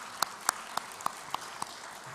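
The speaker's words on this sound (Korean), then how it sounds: "우리 하나님께 영광의 박수" A church congregation claps in unison, six crisp, evenly spaced claps at a brisk steady rhythm, moderately loud, with no talking over them.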